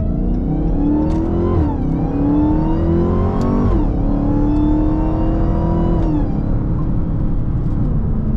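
Dodge Hellcat Charger engine pulling hard from inside the cabin, a loud continuous roar that climbs through several gear shifts with brief dips between pulls, dominant and close with no talk.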